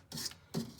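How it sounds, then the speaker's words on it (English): Wire brush scrubbing around a nut, two short close rasping strokes with a gap between, scratchy and dry, no talking. "wire brush. These are ideal because you can get in a lot of tight spaces."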